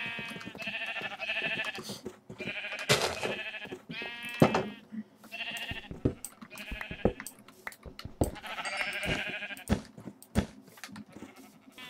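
Repeated sheep bleats in a video game, several in quick succession, sound loud and close, interspersed with short clicks and thumps.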